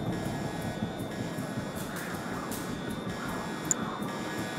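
Aircraft engines in the Command & Conquer 3 strategy game, a steady, even droning roar with a faint whine on top, continuous and moderately loud, with no voices.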